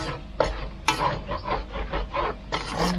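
Preserved radish and garlic stir-fried in a pan over low heat, giving a steady scraping and rustling with repeated stirring strokes at close range, with no voices.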